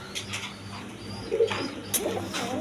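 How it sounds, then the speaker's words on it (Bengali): Black Racer pigeons, a pair, coo softly in a few short low calls at close range, with faint chirps and light background noise around them. "এক পেয়ার ব্ল্যাক কালার রেশার কবুতর"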